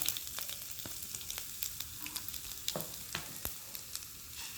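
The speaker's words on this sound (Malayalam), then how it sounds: "അപ്പോൾ നമ്മുടെ എണ്ണ ചൂടായി അതിലേക്ക് കുറച്ച് കടുക്" Steady sizzling of hot oil as mustard seeds and ginger are added, with scattered pops and crackles, close and continuous, no voices.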